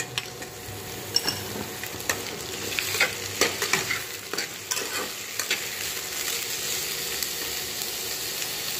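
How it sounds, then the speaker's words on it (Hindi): Raw banana stirred into onions and green chilies frying in a pan for a spicy stew, giving steady close sizzling with repeated scraping and stirring clicks throughout, no talking. "अब मैं इसमें केला डाल दूँ"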